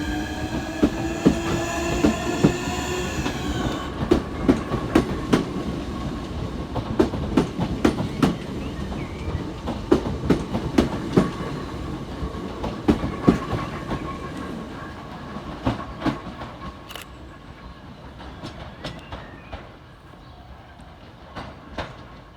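Southeastern class 465 electric multiple units 465037 and 465046 pass at Hayes, with steady wheel clatter, rail joint clicks and rolling rumble close by, a whining tone at the start, then the noise slowly fades away.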